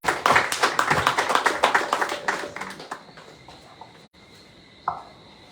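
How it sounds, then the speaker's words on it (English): Audience applause for a student speaker from a secondary school junior cooperative at a formal evening event: about three seconds of brisk, fairly close clapping that stops abruptly, leaving room tone and a brief stray sound. "Let's give her a round of applause, please."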